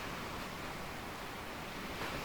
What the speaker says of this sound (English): The waves are getting a little ridiculous, and I can hear another storm out there.